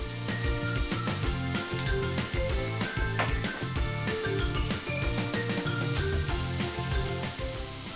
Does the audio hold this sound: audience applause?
no